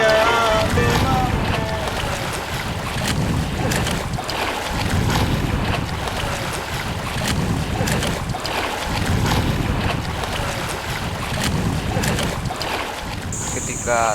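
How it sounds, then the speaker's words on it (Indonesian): A motor-driven boat runs steadily at sea on an expedition voyage along the coast from Galesong toward Jeneponto. Its continuous drone is mixed with loud wind buffeting the microphone and the wash of water, with no break throughout. "Jadi pelayaran yang digunakan di sini kita menggunakan mesin."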